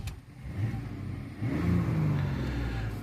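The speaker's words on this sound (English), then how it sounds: "This is Mazda's own inline 6, and it sounds great." A 2026 Mazda CX-70 with a turbocharged inline-six engine runs steadily, heard from close by as a low, even hum that swells slightly partway through, like a light rev.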